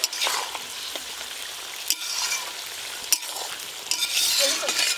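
Capsicum, carrot and beans are stir-fried with ginger in a hot pan, giving a steady, close sizzle broken by a few scraping stirs of a spatula.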